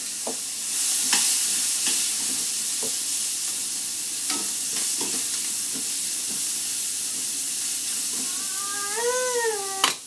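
Onions sautéing in a pan for a vodka chicken dish, a steady broad sizzle with repeated clicks and scrapes of stirring, and a squeaky whistling tone rising near the end; no talk.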